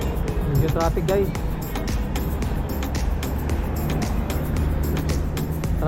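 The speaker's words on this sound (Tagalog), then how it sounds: "Traffic guys." Road traffic in Abu Dhabi streams past in a continuous, close rush of car engines and tire noise, heard while riding a bike, with a voice talking over it.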